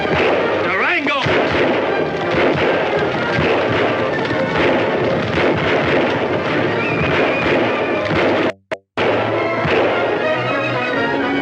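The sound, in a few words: gunfire shootout in a western film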